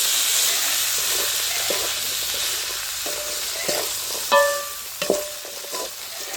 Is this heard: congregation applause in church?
no